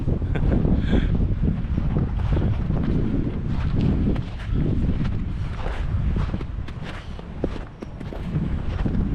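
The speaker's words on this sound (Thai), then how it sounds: "ลมแรงนะ" Strong winter wind at Lake Toya in Hokkaido roars across the microphone in steady, heavy gusts, with a faint rhythm of footsteps underneath and no talking.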